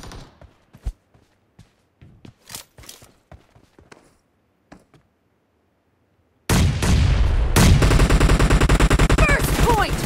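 Automatic gunfire in PUBG Mobile team deathmatch sounds at first as scattered sharp distant shots with silent gaps. A sudden close, loud, continuous burst of rapid fire follows.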